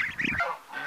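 A muscovy drake and duck give a short, close honking call lasting about a second, rough and breathy with no other sounds around it.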